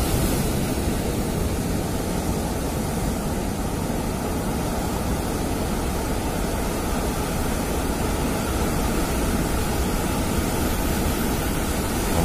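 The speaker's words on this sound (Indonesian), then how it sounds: "Untuk masuk ke sungai itu kita nunggu ombak. Ombaknya bagus lagi." Large ocean waves at Plawangan Puger roar in a steady, loud broadband wash of surf that fills the whole stretch without letup, with no distinct breaks between sets.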